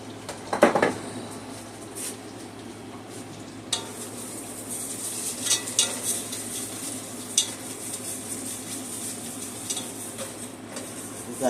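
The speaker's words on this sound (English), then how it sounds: "We got that butter and we have that brown sugar and sugar caramelized in there." Butter, brown sugar and sugar caramelize in a pan with a soft sizzle, while a utensil stirs and scrapes against the pan in irregular clinks.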